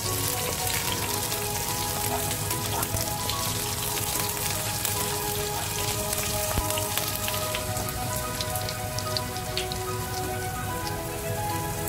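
Okra sautés in a pan for sambar, giving a dense, even sizzle that sounds like close rain, sustained and fairly loud, with occasional light pops and no talking.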